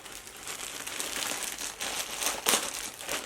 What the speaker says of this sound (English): I'm gonna put some in a little Ziploc